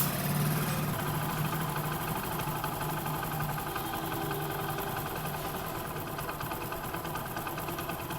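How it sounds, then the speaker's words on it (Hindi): A Honda Pridor motorcycle engine idles steadily after a carburettor service, a constant low rumble with a slight rhythmic throb, no knocking and no other sounds. "अब यहाँ पे बाइक जो है स्लो में बिल्कुल ठीक खड़ी है, नॉकिंग वगैरह नहीं कर रही"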